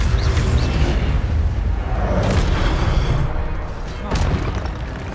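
A fire spell is cast in the PS5 game Hogwarts Legacy, giving a loud, booming burst with a crackling roar that holds steady for several seconds amid dense game sound, with a second surge near the end.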